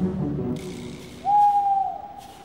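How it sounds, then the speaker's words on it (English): An owl hoots at night, a single long, clear, drawn-out note that rises out of a low murmuring background and slowly fades. "it's unlucky if an owl hoots at midnight"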